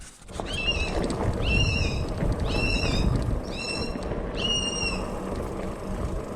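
A loud bird calls repeatedly in woodland beside a trail, giving five harmonic, rising calls at a steady pace over strong low rumbling wind and ride noise.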